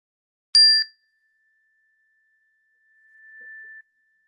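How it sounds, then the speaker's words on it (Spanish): A single strike of a small meditation bell, a bright ring that fades into a long, thin sustained tone in otherwise silence. "escucharemos el sonido de la campanilla que marcará el fin de esta meditación"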